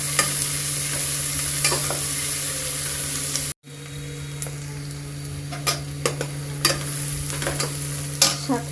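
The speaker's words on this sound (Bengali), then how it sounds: "সাথে আমি ভালো করে ভেজে নিব।" Green chilies and mixed vegetables frying in oil in a pan, a steady close sizzle with intermittent clicks and scrapes of stirring, briefly cut off midway before resuming.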